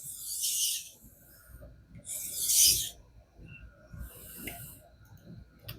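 Three rhythmic rasping strokes of a knife blade drawn across a King whetstone during deburring, close and distinct with brief quiet gaps between each pass.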